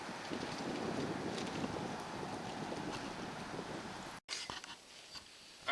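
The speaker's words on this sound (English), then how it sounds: "It's very windy today." Strong wind buffeting outdoors at a homestead building site, a steady rushing roar that drops out briefly, then returns more thinly before a final gust.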